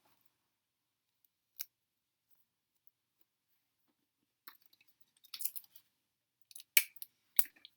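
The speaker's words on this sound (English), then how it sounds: "we're just going to tape the ends together so that you have a sash" Sharp tape tearing and crinkling as the two ends of a toilet paper sash are taped together, with quiet scattered handling clicks that build into several louder rips near the end, no talking.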